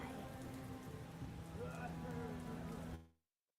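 Steady rain ambience during a tabletop roleplaying game session, a dense even patter that holds for about three seconds before fading out abruptly to silence.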